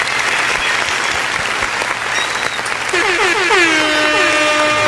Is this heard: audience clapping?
yes